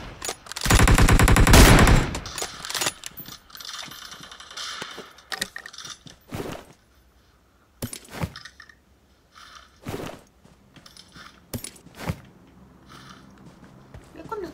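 Gunfire in the game PUBG comes in a dense automatic burst early on, then scattered sharp single shots and short bursts. Quieter in-game sounds fill the gaps between them.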